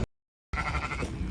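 Sheep on a farm bleat loudly and close by in a continuous stretch after a brief silence, the calls overlapping during feeding time.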